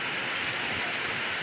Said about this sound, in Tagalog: Talaga pong malakas ang ulan.